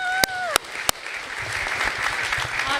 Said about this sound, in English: I'm clapping for that.